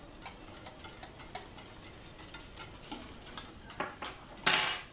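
Soup ingredients seasoned with salt and black pepper being stirred in a pot for a Thai chicken and prawn soup, a run of light, irregular spoon scrapes and clinks, fairly quiet, ending in a brighter clatter.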